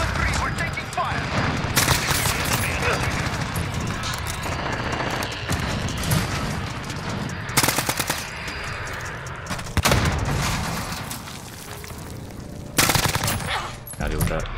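Gunfire from an AN-94 assault rifle in Call of Duty Modern Warfare: loud, close bursts of automatic fire with sharp individual shots and booming impacts, starting and stopping repeatedly over background battle noise, while a voice speaks over it.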